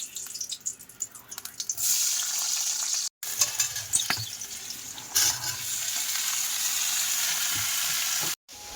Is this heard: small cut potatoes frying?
yes